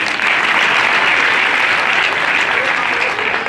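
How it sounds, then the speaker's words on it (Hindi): Loud, dense audience applause fills the whole stretch evenly, honoring a Samurai Academy martial arts demo at a Hindu College event. "एक बार जोरदार ताली बजाइए"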